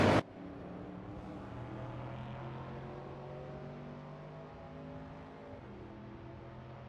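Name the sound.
1970 Simca Rally 3 race car engine in a racing video game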